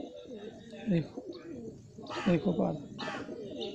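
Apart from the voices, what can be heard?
pigeon cooing while held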